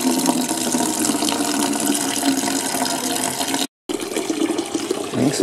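Water pours steadily from the tap of a plastic poly tank outdoors, a continuous close splashing rush that cuts out briefly before resuming.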